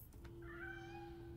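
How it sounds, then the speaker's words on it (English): A stray cat meows in the video game Gotham Knights, one drawn-out, rising and falling cry heard clearly over a steady low hum and faint background tone. "Aw, that sounds like a stray cat."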